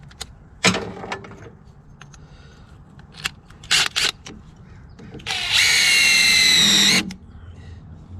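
A hand power drill whirs in short bursts, then runs in one longer, higher-pitched grinding stretch as it punches a hole, close by.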